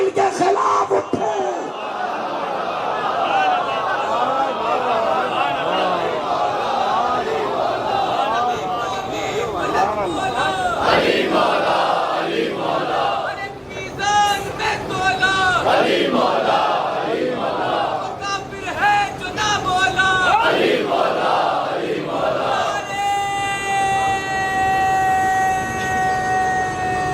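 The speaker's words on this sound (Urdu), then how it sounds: "تم نے بہت اچھے نعرے لگائے" A large crowd at an Arbaeen religious gathering chants slogans in loud, rhythmic bursts that rise and fall, with a leader's voice and some whistle-like tones cutting through the roar.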